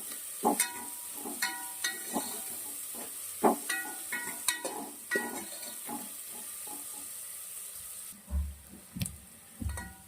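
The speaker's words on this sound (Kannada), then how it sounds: "ಈರುಳ್ಳಿ ಫ್ರೈ ಆಗಿದೆ" Chopped onion and green chillies frying in oil for a mixed vegetable curry, with quiet sizzling under repeated clicks and scrapes of a spatula against the pan, plus a few low thuds near the end.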